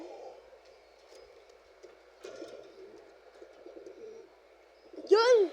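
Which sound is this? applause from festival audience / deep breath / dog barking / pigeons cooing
pigeons cooing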